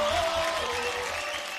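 Applause rises from the studio audience of a televised dance show, a brief dense patter of clapping with a tonal music line and low beat underneath.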